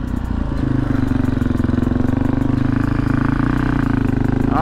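A 1988 Yamaha XT350 single-cylinder motorcycle engine runs steadily while being ridden up through the gears, a close, even thrum with a slight rise near the end.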